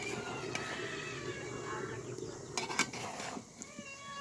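Bottle gourd being stirred and sautéed in a pan gives faint scraping and light metallic clinks of a spatula against the pan over a soft, steady sizzle, with a few sharper knocks near the end.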